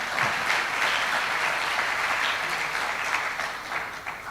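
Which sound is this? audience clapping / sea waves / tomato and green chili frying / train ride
audience clapping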